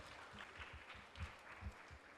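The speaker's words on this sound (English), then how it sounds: "can we please give them a warm round of applause and welcome them?" A seminar audience gives a quiet round of applause to welcome guests taking their seats, a soft, distant wash of many hands clapping that lasts only a couple of seconds.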